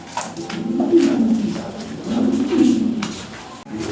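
European Lahori Sirazi pigeons coo in two low, throaty bursts, close and fairly loud, with faint background noise between the calls.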